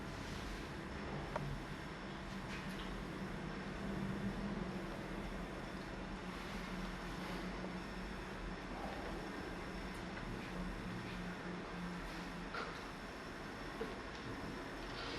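A model railway train runs steadily along the track of a layout with semaphore signals and switch points, a continuous low rolling rumble with faint rail clatter, fairly even in level throughout, with no talk.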